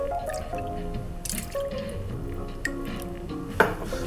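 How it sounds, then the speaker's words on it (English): Whole milk is poured into a pan on a medium-high hob, making light splashing and dripping with a few small clinks of cookware, close and quiet, no one speaking. "we wanna put about 100 mils of whole milk into the pan."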